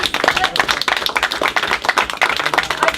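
An audience at a Belknap County Republican Committee meeting claps in a dense, steady patter of overlapping hand claps, close and fairly loud, with voices mixed in.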